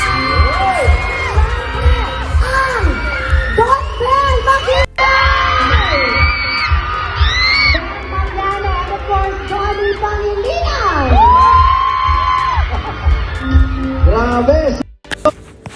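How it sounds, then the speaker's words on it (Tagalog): A large crowd of Cebuano fans screams and cheers at a meet and greet for Belle and Donny, loud and continuous shrieks and whoops over a dense roar, with voices calling out throughout and a brief drop near the end. "grabe na po ang hiyawan nila"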